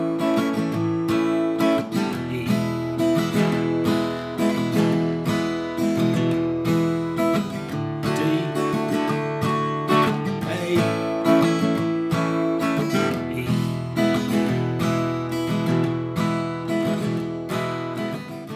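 An acoustic guitar strums the chorus chords of a song in a steady rhythm, alone and close, with no voices for the whole passage.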